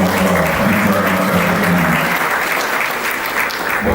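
An audience at a university matriculation ceremony claps steadily, a dense wash of many hands filling a hall, holding at even strength throughout.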